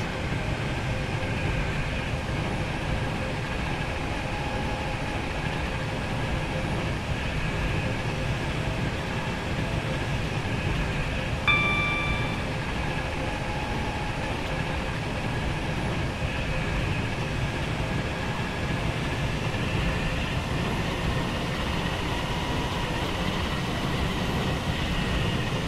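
A train in the Roblox game Stepford County Railway, on a Stepford Connect service, hums along with a steady, even running drone and a brief tonal chime partway through.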